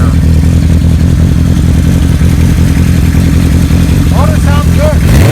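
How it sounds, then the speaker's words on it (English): A restored 1975 Kawasaki Z1 900 motorcycle engine runs loud and close at a steady, rumbling idle with mechanical clatter, and a faint whistle-like sound cuts in near the end. "Motor sounds good."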